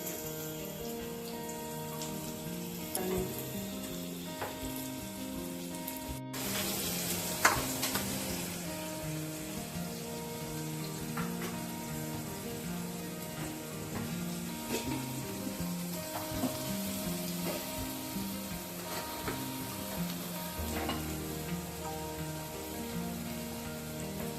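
Onions frying with salt in a pan for dhaba-style paneer bhurji, a steady soft sizzle with occasional stirring clinks and faint background tones, continuous and close throughout.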